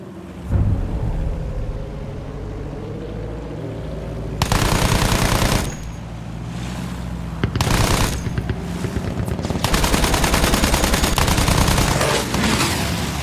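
Bursts of rapid machine-gun fire in the Battlefield 1 video game, shooting at Germans, come in long loud rattling volleys separated by short lulls of rumbling battle ambience.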